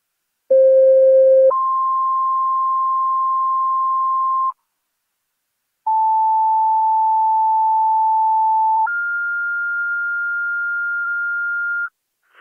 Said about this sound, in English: Second set of tones for the EMS call at the Niagara Renal Center.